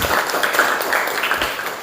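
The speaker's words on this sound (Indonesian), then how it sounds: "Kasih tepuk tangan dulu tadi untuk Aina sama Ana ya" A classroom of students clapping for two classmates, steady dense applause at moderate volume throughout.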